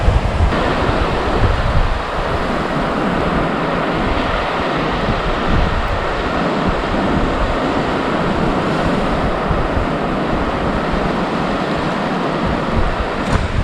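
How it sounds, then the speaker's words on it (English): Ocean surf rolls onto the beach at Hunting Island State Park, a loud continuous roar of breaking waves mixed with heavy wind buffeting the microphone, steady for about fourteen seconds with no talking. "can we just sit here and listen to the waves?"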